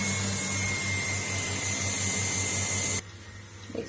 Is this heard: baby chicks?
no